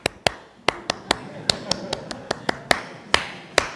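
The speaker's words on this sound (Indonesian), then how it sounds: "Tepuk pramuka itu namanya." A group claps out the Indonesian scout-style tepuk pramuka at a Ramadan religious talk, a run of sharp, crisp hand claps in an uneven, patterned rhythm, with a voice faintly underneath.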